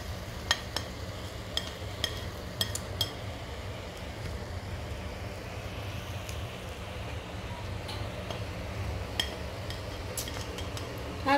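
Fried onion, carrot and raisins tipped into a pot of Bukhari rice, with a low bubbling simmer underneath and scattered clinks of a spoon against the pot.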